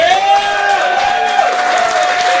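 Audience at a startup pitch night cheering and applauding for a company, a loud dense roar of clapping with sustained crowd cheering and whistling throughout.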